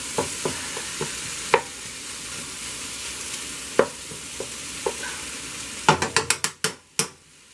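Food browning in a pan while cooking spaghetti squash Italian style, a soft steady sizzle with scattered clicks and a quick run of sharp knocks near the end, close and quiet, no talking.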